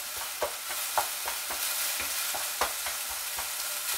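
Garlic and chilies frying with chicken in a pan for pad krapao make a bright, even sizzle, with quick rhythmic scraping strokes of a spatula about twice a second, close and with no speech.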